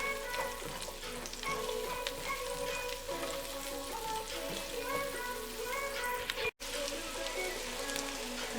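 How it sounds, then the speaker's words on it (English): Garlic browning in a pan, a steady crackling sizzle throughout at moderate level, with a brief dropout near the end. "drop the garlic and let it brown"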